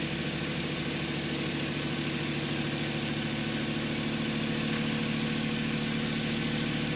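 An Adams motor hums steadily and loudly with a dense buzzing whine and mechanical rattle as it speeds up toward top speed, continuous throughout with no talk.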